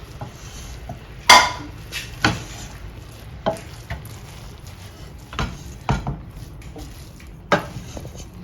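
A spoon stirs onion and coconut oil into saffron rice in a pot, producing a soft sizzle with repeated scraping and clinking strokes against the metal, one sharp clank early on and several lighter knocks after it.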